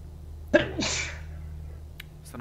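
A single sharp human sneeze, close and loud, with a brief intake and burst followed by a trailing breathy release, over low steady engine hum from a truck-driving game.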